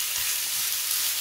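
Minced meat, about 350–400 grams, frying in a pan: a steady, close hiss of sizzling fat that holds even throughout, with no talking.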